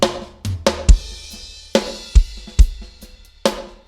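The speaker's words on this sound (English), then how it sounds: "These are bussing out to reverbs, so it'll sound like this." Snare drum hits in Logic Pro X routed to reverb buses, a loose pattern of sharp strikes with kick thumps underneath, each hit trailing a washy reverb tail, played alone with no talk.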